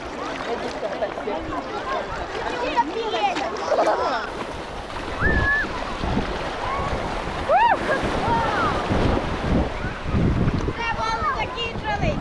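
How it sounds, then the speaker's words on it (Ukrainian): Sea waves wash onto a beach in Bulgaria in a steady, close surge with wind buffeting the microphone, while several people talk and call out over the water. "Чудові волни, так?"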